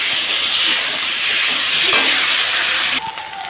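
Ginger and chili paste hitting a pan of sautéing potatoes gives a loud, close, steady hissing sizzle that drops off suddenly near the end.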